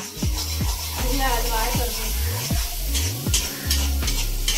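Crab fry sautés in a pan with sizzling and repeated scraping stirs. It sounds loud and close throughout, with no pause.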